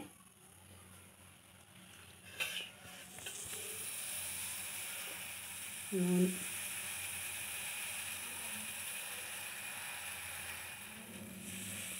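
Tempering spices sizzling in hot oil, a soft continuous hiss and crackle heard fairly close and quiet, with a couple of brief clinks of a utensil and no speech.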